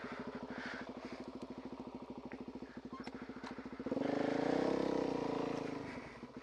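An old, oil-leaking motorcycle engine putters at a fast, even idle, then revs up into a louder, smoother roar before easing back, heard close with no talk.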